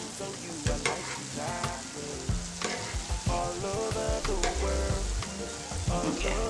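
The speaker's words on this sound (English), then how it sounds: "we're cooking it in the oil" Puff-puff dough balls deep-fry in hot oil with a steady, close sizzle, crackling and bubbling continuously, while a utensil stirs through the oil with occasional knocks; no one speaks.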